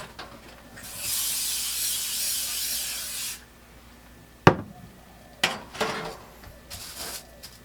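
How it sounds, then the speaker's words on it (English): Cooking spray hisses in one steady burst of about two seconds onto a baking tray for sausage rolls, followed by a few clanks and rustles as the tray is handled at a camping setup. "give your tray a little bit of a spray with the cooking spray"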